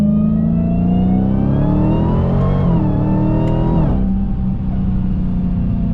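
A 2023 Dodge Challenger Hellcat Redeye Widebody pulling hard in third gear from about 3,000 RPM: a loud, deep supercharged V8 roar rising steadily in pitch, heard from inside the car, then easing off near the end, with no talk.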